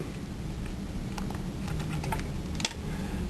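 Scissors snipping through swimwear elastic, a few sharp crisp cuts spaced irregularly over a steady low background hum, close and fairly quiet.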